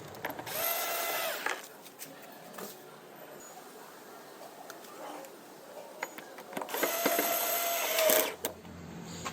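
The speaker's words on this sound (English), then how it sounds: "These two screws turn clockwise to tighten." Screws being tightened on a Honda Activa scooter during speedometer cable replacement, with bursts of quick ratcheting clicks separated by quieter handling noises.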